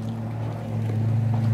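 A jet ski engine drones steadily on open water near a floating cottage in Guimaras, a low, continuous hum that swells slightly partway through, with no talking.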